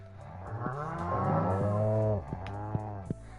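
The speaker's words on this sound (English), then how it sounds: "Moo cows!" Cows in the Stardew Valley farming game moo in several drawn-out, clearly harmonic lows, one long call in the middle and shorter ones after, close and alone with no talk.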